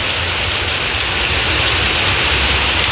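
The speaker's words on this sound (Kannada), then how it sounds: "ಫುಲ್ಲು ಮಳೆ" Heavy rain pours steadily outside a home, a dense, loud, unbroken hiss with no talk.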